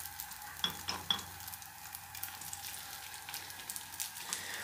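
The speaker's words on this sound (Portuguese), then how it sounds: "Ele já está fritando já." Nikuman buns fry in oil in a pan with a soft, continuous sizzle and crackle, punctuated by a few sharper pops and light clicks, fairly quiet and close with no talk.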